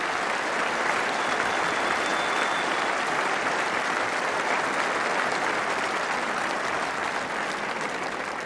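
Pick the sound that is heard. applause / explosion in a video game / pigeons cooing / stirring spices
applause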